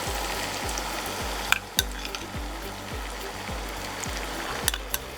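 Ingredients for chicken rezala sizzle steadily in a pan while a spatula stirs and scrapes in a regular rhythm, with a few sharp clinks of utensil on metal, close and fairly quiet.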